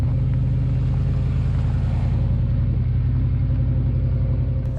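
Truck fitted with a Grizzly Locker and 4.56 gears accelerating on the street, a loud steady low engine rumble throughout with a faint higher whine easing off partway through.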